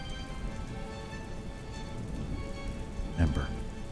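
Steady rain hisses across a Pokémon video game battle, a constant wash of drops with a brief louder effect near the end, while a voice talks faintly underneath.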